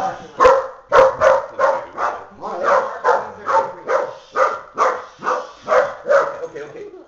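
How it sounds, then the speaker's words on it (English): Two dogs bark at each other during a scuffle, a steady run of loud, close barks and yips repeating about once a second. "That's enough barking."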